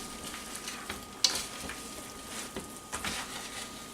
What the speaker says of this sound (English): I'm going to turn this off the heat and we're going to stir in our nuts.